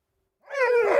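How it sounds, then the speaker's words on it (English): Purebred husky sled dog in a dog team, giving a single drawn-out howling bark that starts after a moment of silence, close and loud, no speech. "Purebred Huskies, or as the Inuit call them, Qimmiit."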